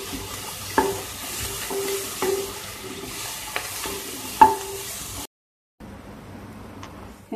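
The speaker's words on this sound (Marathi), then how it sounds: "आता काजू घालणार आहोत। परत 1 मिनिट परतून घ्यायचं।" A spoon scrapes through chopped tomato and cashews sautéing in a pan for palak paneer, giving a soft sizzle broken by four or five distinct stirring scrapes at a steady pace, then a short silence.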